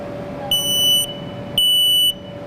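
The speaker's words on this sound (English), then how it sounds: "You don't have a lot of time when you hear the smoke alarm" A smoke alarm inside a room gives two loud, shrill electronic beeps about half a second long, separated by a short pause, over faint background hum, with no talking.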